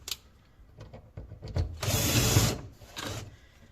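A power driver whirs in short bursts while sinking a screw into a wooden wardrobe. A few brief tool starts are followed by one longer loud run and a final short burst, with faint knocks between.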